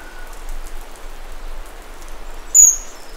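Steady monsoon rain falls in a soft, even hiss across the whole stretch, with a brief bird chirp breaking through near the end.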